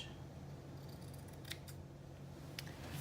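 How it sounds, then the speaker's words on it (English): Scissors trimming a sewn fabric seam on a Simplicity 8637 wrap dress, a few faint, crisp snips spaced apart over quiet room hiss, nearby and unaccompanied by speech. "Trim this seam slightly just to kind of neaten it up."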